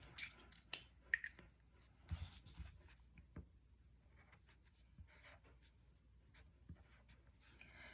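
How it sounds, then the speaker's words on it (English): A pen scratches across a piece of paper with faint, quiet strokes and a few taps, close by and soft, with no talk over it. "Let me get a piece of paper, write this down."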